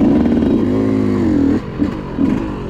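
A Yamaha YZ125 two-stroke dirt bike on a trail ride drones loud and close, its engine holding a steady revving buzz, then dipping and rising again in short throttle blips.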